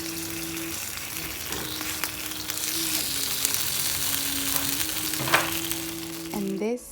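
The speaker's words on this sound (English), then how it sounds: "I'm going to let it cook on both sides and then flip it over." A birria taco fries in a pan, giving a steady loud sizzle throughout with a faint background tone and a brief clatter near the end.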